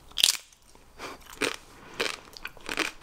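Tortilla chips loaded with fresh homemade jalapeño guacamole being bitten and chewed up close, a sharp crunch followed by several rhythmic crunching chews, with no talking.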